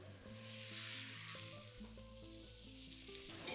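Cooked meats go into a pot of Mexican charro beans with tomatoes, producing a steady close sizzle and hiss over soft tonal music.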